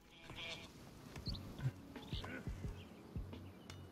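Sheep bleat in the Northgard strategy game, several short calls scattered over a few seconds amid soft clopping game sounds, with people talking over them.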